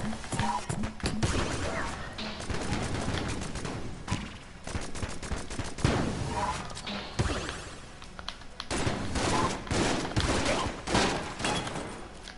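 Guns in the dungeon-crawler game Enter the Gungeon fire in rapid, repeated bursts, loud clattering volleys mixed with thuds and crashes, while someone talks over the shooting.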